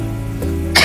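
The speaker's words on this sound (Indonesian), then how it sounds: "Batuk." A single short cough near the end of a brief stretch of low background hum.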